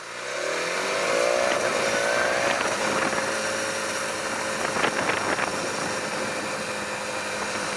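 A BMW S1000XR sport-touring motorcycle riding on a freeway, its engine climbing through a rising rev, then holding a steady loud drone under heavy wind rush.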